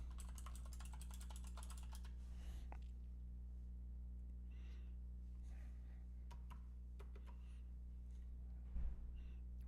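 Keystrokes on a computer keyboard at a home desk setup, a fairly quiet run of clicks and taps in the first seconds and scattered strikes after, over a steady low hum.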